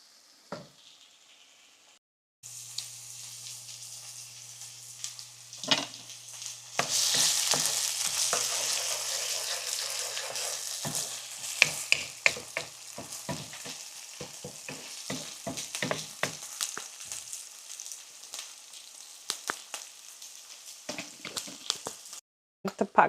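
Guyanese hassa curry cooking in a pot, a steady close sizzle with frequent scraping and clacking stirring strokes, fading to quieter moments near the end.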